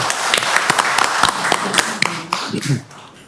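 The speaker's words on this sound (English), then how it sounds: "I think that deserves another round of applause" Audience applause at a school board of trustees meeting: a scattered round of distinct, sharp claps at an uneven rhythm that thins and fades toward the end, close and fairly loud.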